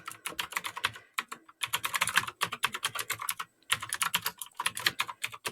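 Rapid, loud clatter of typing on a noisy Mac computer keyboard, keys struck in quick bursts with brief pauses between runs, close and alone without any voices.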